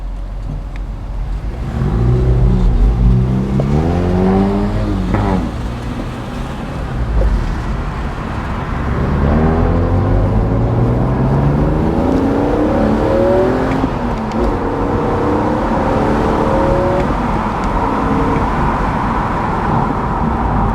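A 2007 BMW Z4 M Roadster accelerates hard while driving, its engine revving up through several gears with rising pulls and shifts, heard loud from inside the cabin over steady road noise, no voices.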